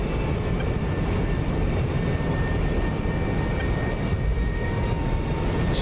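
F-22 jet engine in the DCS combat flight simulator, a steady, loud, continuous roar with a faint high whine throughout, no voices.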